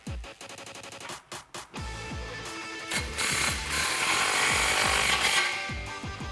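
A power tool tightens an exhaust clamp on a 2019-2020 RAM 1500 5.7L during a Flowmaster FlowFX dual exhaust install, with rapid stuttering impact bursts and whirring that grow into a loud continuous grind close by.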